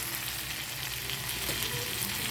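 Pork frying in a pan at a roadside cooking spot, a steady, close hiss and crackle of sizzling fat that carries on without a break.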